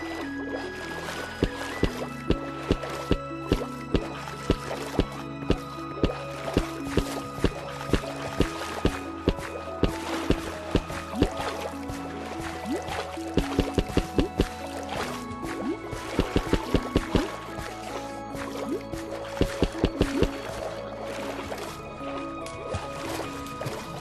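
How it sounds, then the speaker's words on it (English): Water and bubble effects in the RealmCraft VR game play underwater on an ocean-submerged ice biome track: steady liquid wash with repeated quick bubbly pops and drips, some in short clustered bursts, alone without talk. "those new water effects and bubbles and stuff, sound effects, they are really good"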